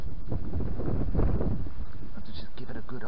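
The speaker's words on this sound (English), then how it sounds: "It's a bit difficult here in the wind." Gusty outdoor wind buffets the microphone during car headlight polishing on a Nissan Micra K12, a steady low rumble under a man's speech throughout.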